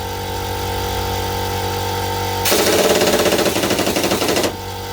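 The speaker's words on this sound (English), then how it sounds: "the compressor's kicked back in" An air compressor kicks in and runs loudly for about two seconds with a hard, rapid pulsing rattle, then stops, leaving a steady background hum before and after.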